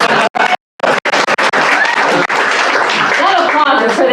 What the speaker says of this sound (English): that applause is for the museum